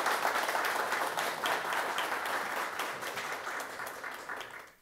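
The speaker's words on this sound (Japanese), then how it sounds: "皆さん拍手" An audience at a Shinjuku ward-hosted business lecture in Tokyo applauds guests being introduced, a steady, even wash of many hands clapping that fades out at the end.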